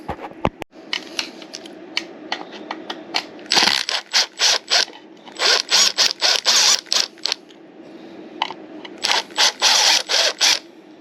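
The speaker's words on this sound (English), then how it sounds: "We'll unscrew this screw right here" Ratchet screwdriver clicks as a screw is undone on a Motorguide Xi3 trolling motor lower unit, a close, crisp series of rapid ratcheting bursts with short pauses between turns.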